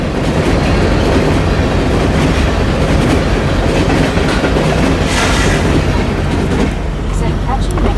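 A freight train passes close by, a loud continuous rumble of wheels on rails with rhythmic clacking and metallic rattle that holds steady throughout.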